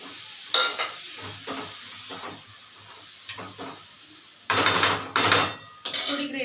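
A pan of potato curry with onions and ginger-garlic paste gets chili powder, salt and tomato stirred in: close metal scraping and spoon clatter over a soft sizzle, with louder clanking bursts toward the end.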